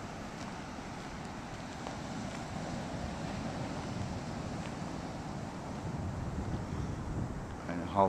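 Steady surf and breaking waves at Stinson Beach, a continuous broad wash with wind buffeting the microphone, moderately loud and unbroken throughout.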